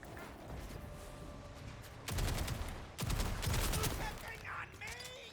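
Rapid gunfire from a high fire-rate weapon in Borderlands 4 rattles in fast repeated bursts over a busy game soundscape. Two louder volleys break out midway, with other battle noise running throughout.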